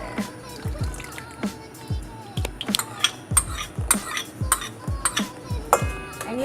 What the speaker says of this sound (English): And you just want to stir it till all the butter and sugar is incorporated together.